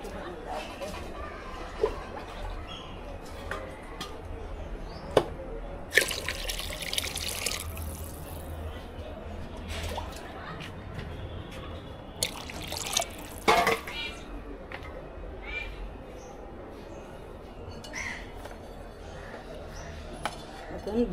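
Water pours and trickles into a clay pot of rice being cooked, with intermittent splashes and drips under ongoing conversation in a kitchen.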